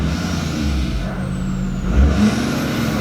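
A tuned pickup truck idles with the parking brake set, a deep, steady engine rumble close by with a slight swell near the end.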